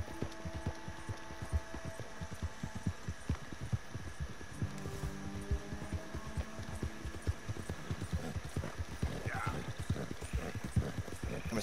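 Horse hooves clip-clopping in Red Dead Redemption 2, a steady rhythmic trot running throughout, with game music, ambient hum and occasional voices mixed in.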